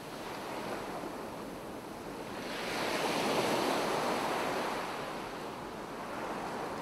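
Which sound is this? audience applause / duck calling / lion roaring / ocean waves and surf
ocean waves and surf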